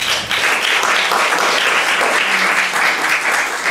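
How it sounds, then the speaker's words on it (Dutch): Steady, dense applause from an audience at a talk event, continuous and fairly loud throughout without pauses. "Mag ik een hartelijk applaus"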